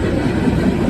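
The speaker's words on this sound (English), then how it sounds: "Looks like another grain train." Loaded grain train of MULX covered hopper cars rolling past at close range, a steady low rumble of wheels and cars with no break over the brief stretch.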